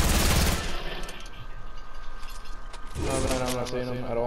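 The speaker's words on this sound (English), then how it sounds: "those guys are shooting out from the sniper" Bursts of Fortnite gunfire, including sniper shots, ring out at moderate distance, with a rapid crackle at the start and a sharper volley near the end, layered under ambient game sound and chatter.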